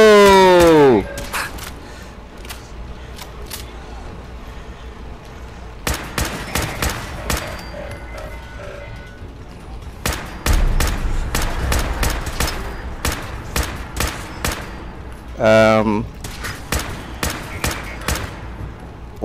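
Bursts of gunfire in a Fallout 4 battle, a rapid spray of sharp shots followed by scattered single and clustered blasts over the following seconds, loud and close, with a brief whooshing sweep near the end.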